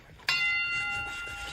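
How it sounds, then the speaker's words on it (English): A single boxing ring bell strikes loudly and rings out with a sustained metallic tone that slowly fades, with no talk over it. "you hear the bell"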